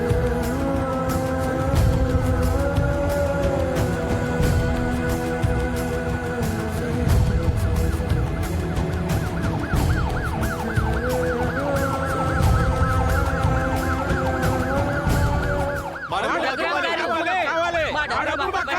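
An ambulance siren wails in rising and falling cycles near a hospital, blended with music and people talking throughout.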